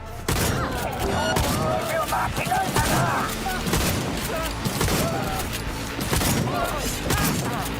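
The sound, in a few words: gunfire in the video game Cyberpunk 2077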